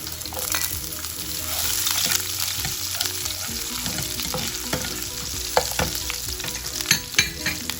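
Garlic and green onion fry in a couple of spoonfuls of cooking oil, a loud, dense sizzle with stirring clicks and scrapes throughout, close by and with no voices.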